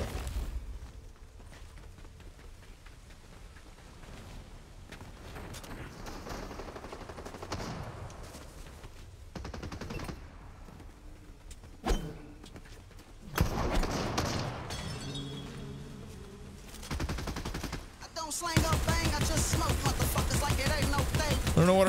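Gunfire in the video game Fortnite: scattered shots and rapid automatic bursts, growing denser and louder toward the end, with some sparse game sounds in between.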